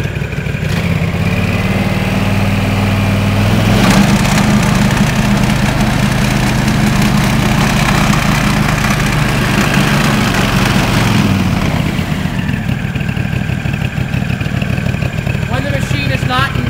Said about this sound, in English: I'm going to stand behind the machine, one hand on the handle, and slowly begin to throttle up the machine.